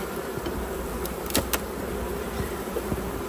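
Honeybees move about restlessly in an open hive, giving a faint, steady buzzing hum with a few brief louder sounds.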